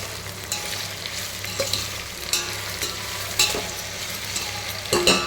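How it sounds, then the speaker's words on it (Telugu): Tomatoes stirred into a frying pan with cucumber pieces while cooking for sambar, a steady sizzle under repeated scraping strokes of the spoon, close up with no talking. "అలాగే టమాటో కూడా వేసుకోవాలి. మొత్తం ఒకసారి కలుపుకోవాలి."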